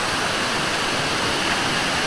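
A small waterfall in Palawan pours steadily nearby, a loud, even rushing roar with no pauses or voices throughout.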